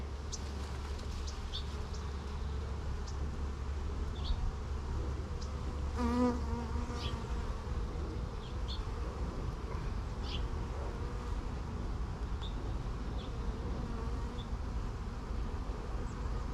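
Honey bees hum steadily around an open hive during a full spring inspection, a dense, continuous buzz with individual bees whining close past now and then.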